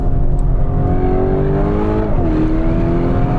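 A black Lamborghini Urus S SUV with a Novitec Esteso widebody kit, nearly 800 horsepower, accelerates hard with a loud, close engine roar, its pitch climbing steadily and dipping briefly at a gear change.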